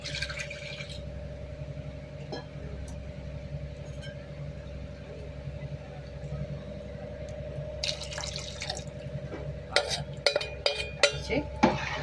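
Water poured into ragi porridge, a steady liquid trickle under a constant low hum, with sharper splashes and clinks building toward the end.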